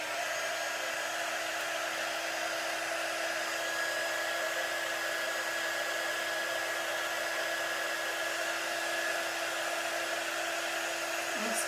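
Hair dryer drying chalk paste paw prints, a steady loud blowing whir with a constant whine, unbroken and alone for the whole stretch.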